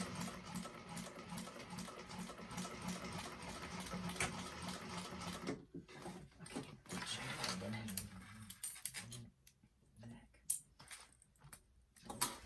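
A sewing machine runs steadily while stitching a Pandora bag, its fast rhythmic whir continuous for several seconds before breaking into shorter starts and stops, quiet and close.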